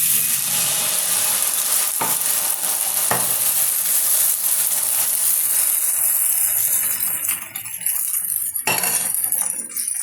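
Sweet dosa batter with sugar sizzles on a ghee-greased griddle, a steady close frying hiss with a few clinks of a utensil against the pan and no talking.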